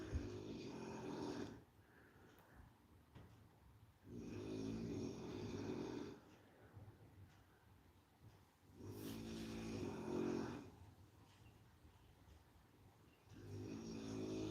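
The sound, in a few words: snoring in the background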